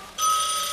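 A telephone bell rings in a 1984 auto plant office during UAW–GM contract talks, one steady electronic trill that starts abruptly and holds loud and close to the end.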